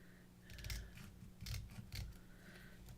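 Scissors snipping paper during a crafting session making letters to Santa, a few quiet, crisp cuts spaced apart at close range, no talking.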